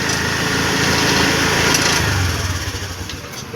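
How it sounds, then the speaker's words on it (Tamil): Honda Activa scooter engine held at a steady high rev right after starting, a constant loud buzzing drone close by that eases slightly near the end, with no talk over it. "இந்த வண்டி என்னன்னு பார்த்தீங்கன்னா வண்டி ஸ்டார்ட் பண்ணாலே ஃபுல்லாக ரைஸ் ஆகிட்டே இருக்குது"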